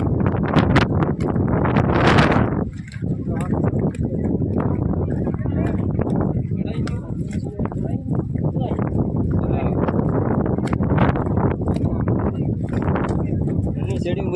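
Strong wind on Girnar mountain near Junagadh buffets the microphone in loud, continuous roaring gusts, with a brief lull partway through and voices talking over it.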